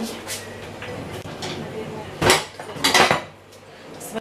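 Frying pans clank and scrape while being handled in a home kitchen during cooking, with a couple of louder metallic bumps over quieter background noise.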